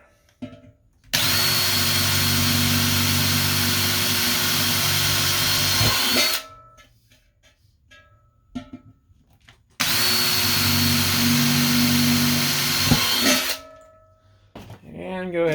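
A power drill bores holes for a mini keg Bluetooth speaker in two loud, sustained bursts of about five and four seconds, with quiet pauses and faint handling noise between them.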